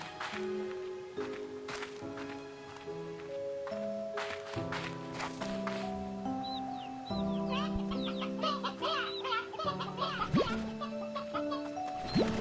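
Roosters in the video game Slime Rancher 2 cluck in scattered bursts over a bright melodic game soundtrack with steady synth notes, the bird calls quick and chirpy, mostly mixed under the music.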